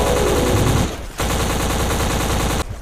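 Rapid automatic gunfire rattles loudly in the video game BLACK, a dense burst that cuts out briefly, resumes, then stops abruptly near the end, with no talk over it.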